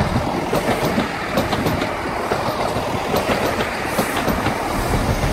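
A train rolls steadily past on the rails at Westbury station, a loud continuous rumble with faint clickety-clack and occasional high metallic squeals.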